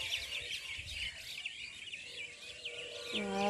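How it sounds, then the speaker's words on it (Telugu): At dusk, birds heading back to nests in trees near a rooftop terrace keep up a busy, moderately loud twittering chorus, and a brief low tonal sound enters near the end. "గూటికి వచ్చే టైం కదా పక్షులు అందుకే అంత సౌండ్ వస్తుంది"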